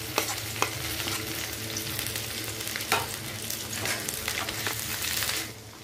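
Chopped ginger and garlic hitting hot oil in a pan, a loud continuous sizzle and crackle with a few sharp spits and stirring scrapes that ease off at the very end.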